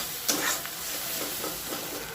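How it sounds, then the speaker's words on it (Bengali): Onion, ginger, garlic and tomato with cumin and coriander powder frying in a pan for Bengali masala crab curry, a steady sizzle with a few short stirring scrapes close by, no talk. "এবার গুঁড়ো মশলাটা ভালো করে কষিয়ে নেব পেঁয়াজ,"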